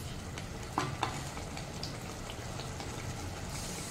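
Mutton frying with cumin, coriander and chilli powder for biryani over a high flame, a steady low sizzle with a few brief spoon scrapes and clinks near the start.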